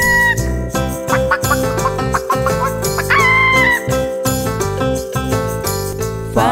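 A hen's clucks and a rooster's crowing sound within a bright, busy children's farm song, mixed among instruments and melody throughout.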